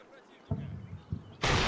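An RPG fired in the Combat Mission Cold War video game gives a sharp launch blast followed by a second burst about half a second later. A loud, broad explosion comes near the end.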